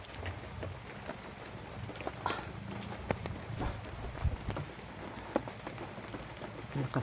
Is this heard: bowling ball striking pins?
no